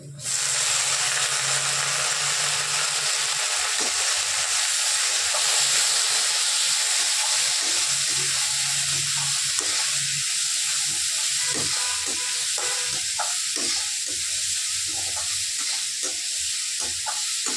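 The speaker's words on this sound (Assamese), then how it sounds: "এতিয়া দিম মই দালি মসুৰ দালি" Masoor dal fries in a hot pan with a loud, steady hiss and sizzle that runs the whole time, marked by repeated soft scraping taps of stirring; no talk.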